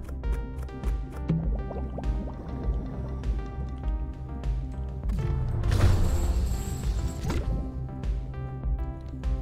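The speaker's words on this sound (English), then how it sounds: "He may or may not have plants I need to water." Water pours and splashes over plants in Dave the Diver, with dripping and sloshing game sound effects and soft clicks and knocks, swelling into a fuller rush of liquid partway through.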